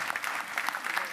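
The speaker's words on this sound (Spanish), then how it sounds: "Un fuerte aplauso." Audience applause at a meeting with a group of Mexican students, a short, steady burst of many hands clapping, fairly close and even.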